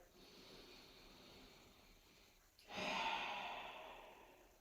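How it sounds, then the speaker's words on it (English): A single deep breath during a seated heels stretch, a soft faint inhale followed by a longer, louder sighing exhale, close and alone. "One more deep breath here."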